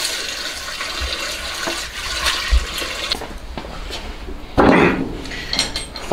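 Running tap water rinses a whole ostrich leg in a home kitchen: a steady, close hiss of flowing water, with a louder splashing surge near the end.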